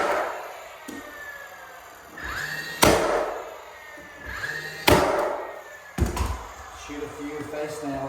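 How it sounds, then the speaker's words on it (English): A nail gun fires face nails into hardwood flooring during installation, three sharp loud bangs spaced a couple of seconds apart, with a tapping clack between them over a hollow room background. "shoot a few face nails in there and then just putty them in"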